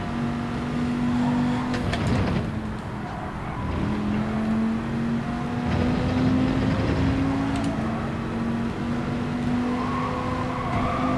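A Porsche race car engine in Gran Turismo drones steadily with a sustained tonal whine that shifts in pitch as the car eases off and slows, loud and continuous throughout.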